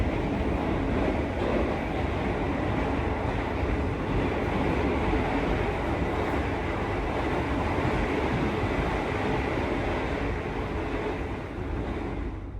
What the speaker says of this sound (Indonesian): Yang ada di jalur sini tuh kereta tambahan mungkin ya. Kereta tambahan dari bukan, kereta api Bogowonto.